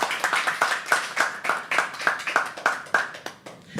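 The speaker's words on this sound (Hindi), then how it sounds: "एक बार ज़ोर से तालियां हो जाएं ध्रुवील के लिए सबसे" Audience clapping for a poet after a poetry performance on stage, a brisk run of distinct, close hand claps with steady rhythm, loud and alone.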